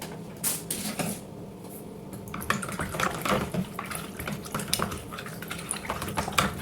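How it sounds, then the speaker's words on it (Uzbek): A spoon stirs a mixture of water, oil and dish soap gel in a container, making close, irregular clinks and liquid swishes that build into a busier stretch of rapid taps and sloshing. "Endi buni yaxshilab aralashtiramiz"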